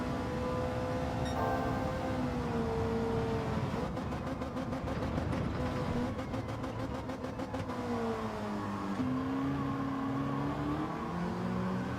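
A car slides through a corner while its front wheels chatter in rapid juddering bursts over a steady, fairly loud engine drone that rises and falls in pitch.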